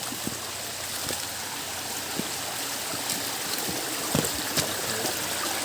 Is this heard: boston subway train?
no